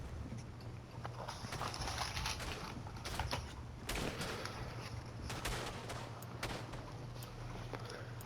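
Rifle shots crack out in the World War I shooter Verdun, with sharp reports spaced a second or so apart over a steady low rumble of battlefield noise and distant firing.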